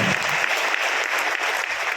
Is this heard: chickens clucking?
no